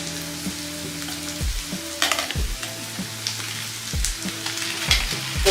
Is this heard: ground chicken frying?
yes